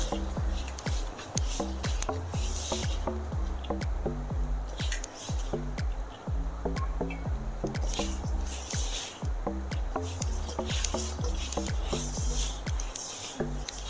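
Hands mix soft, loose sheermal dough in a bowl, making rapid, rhythmic wet squishes and slaps. The sound is close and keeps going for the whole stretch, with faint talk in places.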